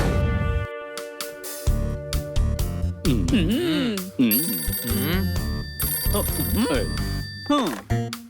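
A cartoon telephone rings with a bright electronic tone in the opening seconds, then animated character voices talk over background music.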